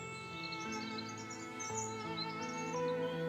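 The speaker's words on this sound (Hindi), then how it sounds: "परिंदों के चहचहाने की आवाज" Birds chirp close by outdoors, a stream of high short tweets and calls layered over a steady bed of background music, with no voices.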